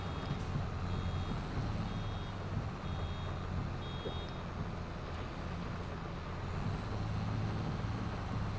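Repeated electronic warning beeps from a vehicle's alarm in the farming video game Farming Simulator 22, evenly spaced chirps sounding over a steady low engine rumble.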